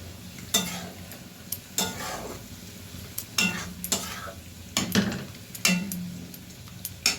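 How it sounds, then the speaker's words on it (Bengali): Mutton liver sizzles in hot oil while a spoon stirs and scrapes the pan in regular clacks, close and continuous, with no talk. "এই মটন লিভারগুলো অনেকক্ষণ ধরে কষাতে হবে, কারণ এগুলো সিদ্ধ হতে অনেকটা সময় লাগে।"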